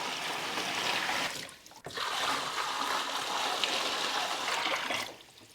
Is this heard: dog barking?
no